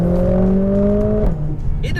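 A Mercedes A45S AMG engine with an ECU remap revs up and holds a high, strained tone close by, then drops away as the revs fall, with a voice briefly audible near the end.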